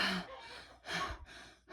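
A voice imitating the rapid, shallow breathing of heat stroke: three quick, breathy gasps in a short rhythmic series, close and alone.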